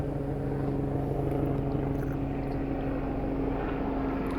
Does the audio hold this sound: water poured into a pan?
no